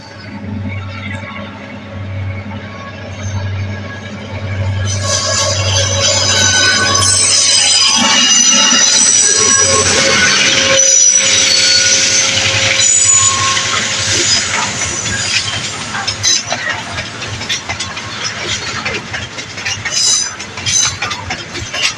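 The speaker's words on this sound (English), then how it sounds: "Here's the train coming." A long freight train in Nakuru, Kenya approaches and rumbles past, steady clatter of wheels on rails with occasional metallic squeals, loud and close for most of the stretch.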